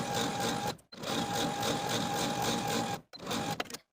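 A sewing machine stitches close to the folded raw edge of jersey fabric for a 1970s-style wrap dress, a fast, even whirring hum that runs close up in three bursts with two brief stops and no talking.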